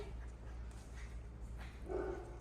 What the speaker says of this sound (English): So I have Reed here playing with the tug toy.